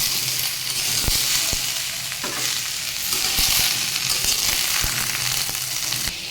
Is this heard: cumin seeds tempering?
yes